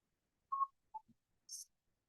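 A few short, sparse phone tones sound alone against silence: three brief electronic beeps at different pitches and then a higher, hissier blip, spaced unevenly and fairly faint.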